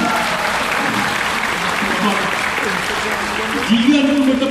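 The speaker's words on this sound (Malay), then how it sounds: "Kita berikan tepukan untuk pelawak-pelawak lama semua." An audience at a comedy show applauds in steady clapping that runs throughout, while a host speaks over it in Malay.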